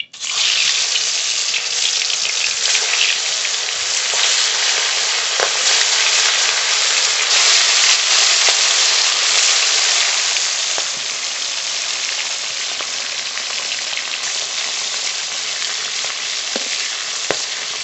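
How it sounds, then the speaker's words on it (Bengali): Fish rubbed with salt and turmeric fries in hot mustard oil in a kadai, giving a loud, steady, crackling sizzle that carries on without a break and with no voices. "মাছ ভাজা হতে থাকুক"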